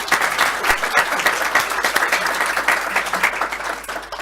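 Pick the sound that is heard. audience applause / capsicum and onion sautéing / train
audience applause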